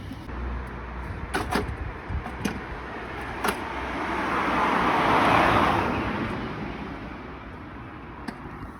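An IZh Planeta motorcycle rides past, with a roaring engine swell that rises to a peak near the middle and fades away, amid rattling clicks and road noise.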